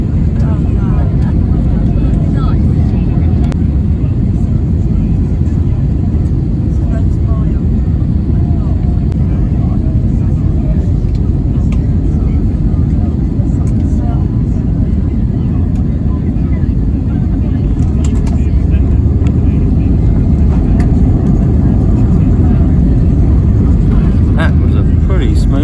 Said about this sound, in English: Smooth landing, I have to say.